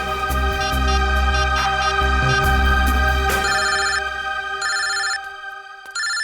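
A telephone ringtone plays loudly and steadily in repeated bursts, a synthetic melodic ring that carries across the whole clip before tapering near the end, with no voices.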